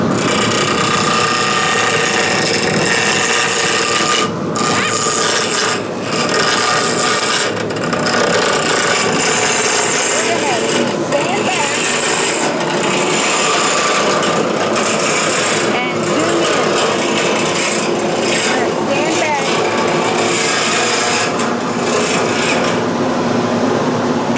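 Wood gouges smoothing a turned seam ripper handle on a lathe, making a loud, continuous rough scraping and whirring throughout, close up, with someone talking over it at times.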